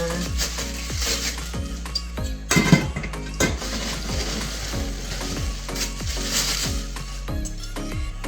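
Lids from a cookware set are handled, producing rattling metallic clanks and knocks over a steady sizzling, stirring-like background, with no talk.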